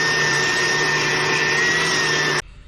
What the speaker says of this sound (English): I just want to sand the keel a little bit and just see